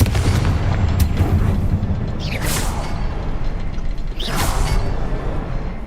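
Confringo fire spell blasts in Hogwarts Legacy, heavy booming rumbles with two whooshing bursts rising through a loud, continuous roar.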